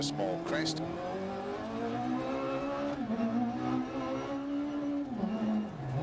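A rally car in the Dirt Rally 2.0 racing game slides through mud. A steady, droning engine note shifts pitch as the car skids along, with a voice talking faintly underneath.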